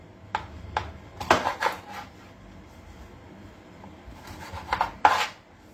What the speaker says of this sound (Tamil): Chop this really fine. This is for the perandai thogayal.